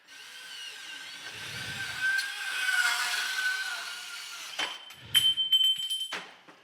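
Milwaukee cordless sub-compact band saw cutting metal conduit, a moderate whirring cut that swells and fades, followed by short metallic clanks and rattles near the end.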